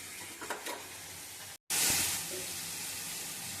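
Spices sauté in oil in a pan for a Bengali tel tangra fish curry, a close sizzling hiss with stirring scrapes that breaks off briefly, then returns louder and steadier.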